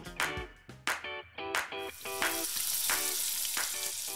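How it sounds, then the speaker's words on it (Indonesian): Chopped chilies and shallots stir-frying for spicy skipjack tuna (cakalang pedas), a hiss that builds into a steady sizzle from midway, partly masked by bright tonal music with punchy hits. "Pertama-tama kita tumis dulu nih cabai dan bawang merah yang udah dicincang kasar ya"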